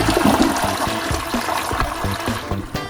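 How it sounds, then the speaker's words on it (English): A toilet flushes with loud, close rushing water that swirls and gurgles down the bowl, tapering slightly toward the end. "Let's give the toilet a flush and see where we're at."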